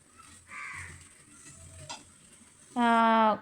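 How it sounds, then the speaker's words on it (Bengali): A pressure cooker with chicken curry inside lets out one loud, steady whistle near the end, after a stretch of quieter kitchen noise with stirring and faint clatter. "এই যে সিটি দিতেছে"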